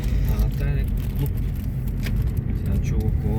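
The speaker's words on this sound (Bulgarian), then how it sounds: "Сега чува кола." A car moving along a street in the morning, its engine a steady low rumble close by for a few seconds, with people talking over it.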